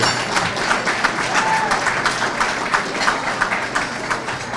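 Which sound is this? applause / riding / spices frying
applause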